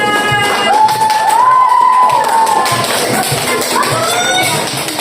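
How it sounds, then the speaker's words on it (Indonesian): A classroom of students claps for a presenting student group amid lively cheering and shouting, with scattered taps and shuffling under the noisy crowd. "Tepuk tangan untuk mereka."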